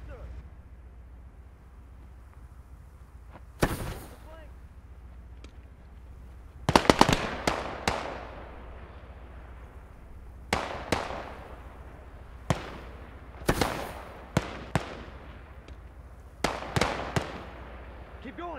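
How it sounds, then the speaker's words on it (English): Several sharp, booming tank cannon blasts go off at irregular intervals, loud against a low rumbling background, in a World War II game. "That's a cannon!"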